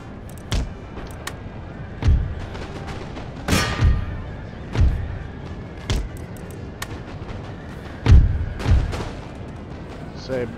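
Mortar and artillery fire in the battle game Empire: Total War, with a series of heavy booming impacts at irregular intervals, some loud and near and others softer, over a busy battlefield din.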